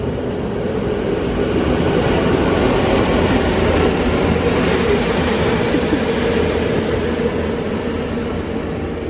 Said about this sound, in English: What's that? Small train.